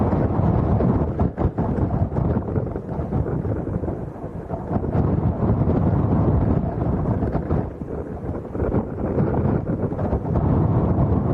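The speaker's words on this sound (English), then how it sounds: "This wind's actually giving me earache, Tom." Strong wind at Arrecife Airport on Lanzarote buffets the microphone with constant loud roaring and rumbling gusts for several seconds, drowning out everything else.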